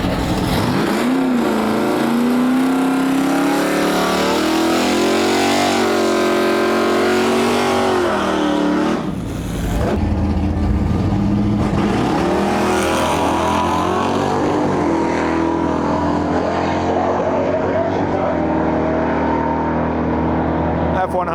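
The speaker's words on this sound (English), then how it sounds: "Here we have a Colorado and a Ford F100 running." Chevrolet Colorado five-cylinder truck and Ford F100 truck drag racing at a dragway, loud engines revving and climbing through gear changes, a brief dip mid-run, then a sustained roar fading slightly, with a voice talking over it.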